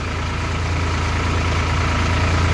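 An Indo Farm 3048 DI tractor engine idles close by, a steady low diesel chug with a regular throb, running on its own with no talk.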